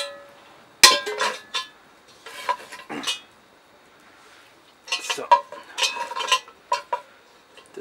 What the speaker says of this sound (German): nehmen wir mal den Pfanneknecht von Petromax und gucken mal, wie der Topf da drauf steht